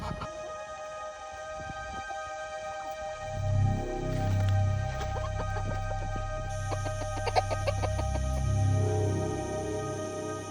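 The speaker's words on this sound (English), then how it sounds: "While our chicken family was enjoying the new coop for the first time" Backyard chickens cluck in a newly built coop on a summer farm, soft intermittent clucks and calls near and far over a steady background hum, with no talking.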